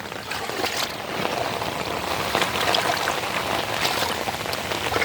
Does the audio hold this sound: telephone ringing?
no